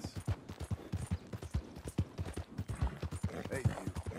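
Steady clip-clop of horse hooves in the video game Red Dead Redemption 2, a brisk even rhythm of sharp knocks close by, with faint background tones.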